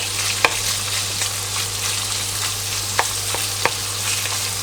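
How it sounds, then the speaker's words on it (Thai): Steady sizzling of pork belly stir-frying in a hot oiled pan, with a few sharp clinks and scrapes of a utensil stirring it, close up. "เราก็จะรวนในสักครู่หนึ่งนะครับ ให้สามชั้นมาเริ่มสุกก่อน"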